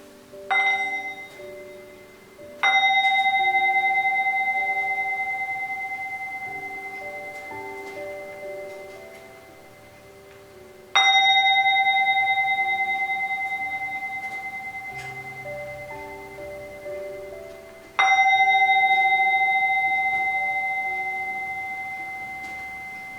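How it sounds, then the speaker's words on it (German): A mindfulness bell rings three times in a quiet hall, each clear struck tone sustaining and slowly fading before the next, spaced several seconds apart. "we will listen to 3 sounds of the bell"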